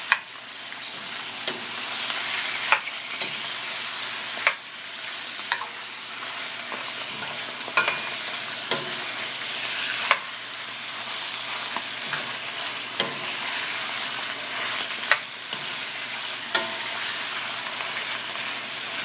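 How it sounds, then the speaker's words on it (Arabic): Sausage pieces stir-fry in a hot pan for sausage shawarma: a continuous bright sizzle with sharp spatula knocks at irregular intervals, close up and without speech. "دلوقتي احنا خلاص حطينا كل الكميه وشوحناها لحد ما تحمر كويس قوي"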